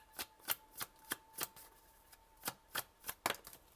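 Close, fairly quiet card handling for a reading: a quick series of crisp riffling flicks and snaps, about a dozen at an uneven rhythm, as cards are shuffled and one is drawn, with no talk.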